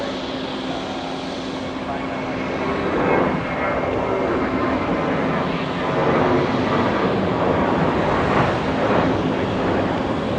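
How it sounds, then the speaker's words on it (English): An Airbus A321 departing JFK roars with a sustained jet-engine rumble and broad hiss that swells gradually and holds, with a voice talking over it throughout. "Airbus A321, the departure that we're seeing right now"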